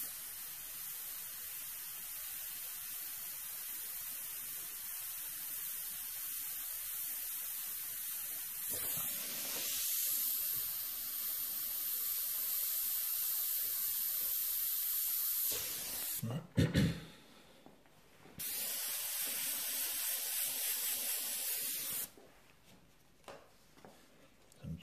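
An airbrush sprays paint while a custom mural is painted, giving a faint, steady hiss that runs for long stretches, breaks off briefly twice with a few clicks and knocks, then resumes.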